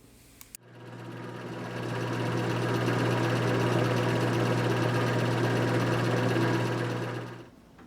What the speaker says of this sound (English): I'm tapping it for 1/4 20 threads.